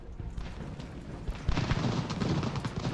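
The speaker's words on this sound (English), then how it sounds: "I hear cannon fire" Cannon fire in the Ultimate General: Revolution video game, heard as a rumble of muffled, distant booms that thicken into heavier rolling blasts partway through.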